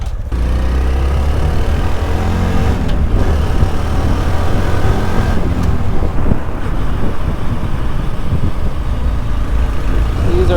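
Honda Super Cub 125cc, a 4-speed motorcycle, on a ride, with a loud, steady engine drone and heavy wind rushing over the microphone throughout.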